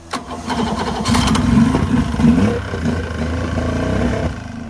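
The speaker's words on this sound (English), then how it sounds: "with a bit of persuasion, the mighty Yamaha fired right up." A Yamaha two-stroke outboard boat engine cranks briefly, catches and roars to life, then keeps running loud and close with a steady rumbling drone.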